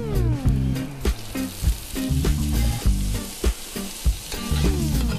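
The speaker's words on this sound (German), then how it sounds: "Dann das Fleisch anbraten." Steady crackling sizzle of meat searing in a hot pan with bay leaves and rosemary, with periodic clatter and scraping of stirring, close and fairly loud.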